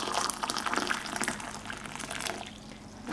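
Hot water is poured into a coffee cup to warm it before making a cappuccino at home, giving a steady close splashing and trickling that slowly tapers off without any talking.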